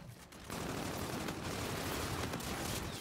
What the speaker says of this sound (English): You're shooting at me, bro.